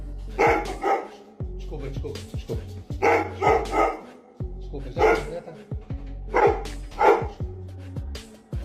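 Dog barking repeatedly in short bursts of two or three barks separated by pauses, close and fairly loud, with a few yips mixed in.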